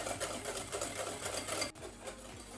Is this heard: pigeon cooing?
no